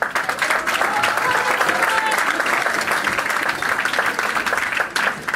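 Dense, steady applause from an audience at an eighth-grade awards ceremony fills the whole stretch at an even loudness, with voices mixed into the crowd noise.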